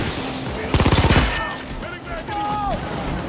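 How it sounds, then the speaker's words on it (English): A shotgun-wielding bulldozer enemy fires in Payday 2: a loud, rapid burst of blasts early on, then game sounds with talk running throughout. "Oh god, it's a shotgun bulldozer."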